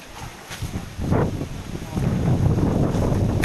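Strong gusting wind during a typhoon-like storm in a coconut-harvesting area, roaring and buffeting the microphone and growing louder partway through, with people talking underneath.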